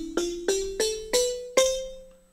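Wooden gyil keys from the Quilcom SIM GYIL plugin with detuning set halfway: five bright, resonant mallet strikes in a slow rising sequence, each ringing out with a buzzy wooden decay, clear and close with no talking.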